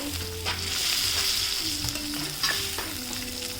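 Garlic tossed into a hot frying pan sizzles loudly and steadily, with a few clattering stirs over the crackle and no voices.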